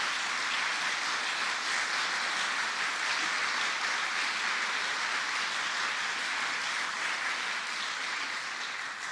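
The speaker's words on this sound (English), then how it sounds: "Give New Yorkers a round of applause." Steady, even wash of audience applause for New Yorkers at a reopening briefing, sustained at moderate level throughout with no voices on top.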